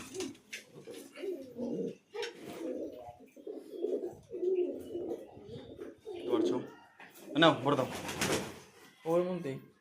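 Pouter pigeons, including a male, coo in repeated low throaty bursts close by, with people talking in between the calls.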